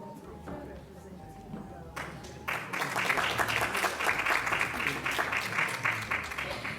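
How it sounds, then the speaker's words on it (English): An audience at a peace symposium bursts into sustained applause for community outreach supporters, quieter room sound at first, then dense, loud clapping filling the rest. "A big round of applause for all of them"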